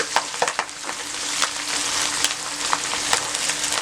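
Green chilies sizzle in hot oil in a pan, added to browning onions for a chickpea pulao: a dense, steady frying hiss with a few sharper clicks and pops from stirring, close and fairly loud.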